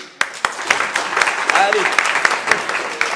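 Scattered claps and applause from a live audience at an improvised slam poetry event, with sharp individual claps over a steady patter and a voice speaking over it.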